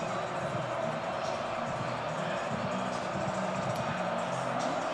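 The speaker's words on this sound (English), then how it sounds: "A lot of crowd noise for the Gophers to deal with." A stadium crowd at a Michigan vs. Minnesota college football game roars as a steady, dense wash of distant voices and noise, with no distinct cheers standing out.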